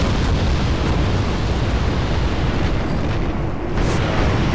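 Explosions roar continuously as attack gunships destroy Leopard tanks in the Wargame: European Escalation strategy game, a dense, loud, sustained rumble of blasts with no pauses.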